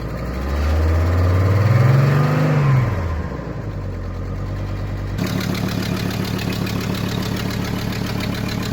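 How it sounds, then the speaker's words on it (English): High-mileage Hummer H3 engine idling with an exhaust leak, a loud, rough, rumbling idle with a rev that swells and falls early on, then a steady ticking, puffing leak sound throughout. "I shot this with the engine making that much noise with that exhaust leak"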